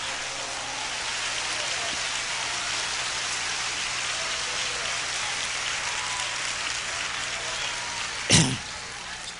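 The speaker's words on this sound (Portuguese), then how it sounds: "Uma salva de palmas para Jesus." A congregation claps in a large church hall during an evangelistic event, a continuous hiss-like rain of applause, even and fairly distant, with one sharp isolated knock near the end.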